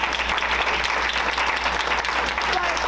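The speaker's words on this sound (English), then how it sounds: "Can we give her applause?" An audience applauds steadily at a public gathering, continuous dense clapping close by with a low hum underneath and faint voices mixed in.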